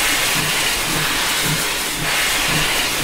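A steam locomotive's open cylinder cocks in a train simulator game hiss loudly and steadily, a broad continuous rush of steam with a faint rhythmic chuff underneath.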